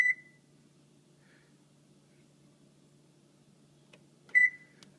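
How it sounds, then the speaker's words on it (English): An oven timer gives two short electronic beeps as it is set, one at the very start and another near the end, with near silence between and a faint click before the second. "Set my timer."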